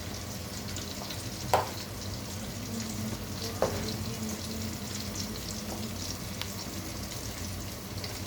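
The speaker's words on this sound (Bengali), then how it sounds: "খুবই ভালো করে আমি পেঁয়াজটাকে এখন নেড়ে নিচ্ছি।" Onions frying and being stirred in a pan for shahi bhuna khichuri, a steady close sizzle with two sharp spatula clinks against the pan and soft scraping, no voices.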